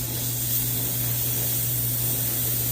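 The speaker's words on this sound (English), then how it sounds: "We're gonna go ahead and lay our fish down. We are going to get a good sear on it." Salmon laid down in hot olive oil in a pan to sear, a close, steady, loud hiss of spattering oil held evenly throughout with no voices over it.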